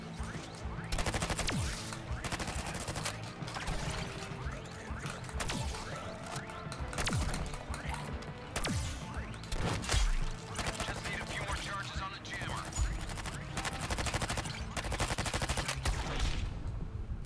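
Dense, continuous gunfire and bursts of automatic weapons fill a chaotic firefight in the Suicide Squad: Kill The Justice League video game, with rapid overlapping shots and crashes throughout and brief game voices mixed in.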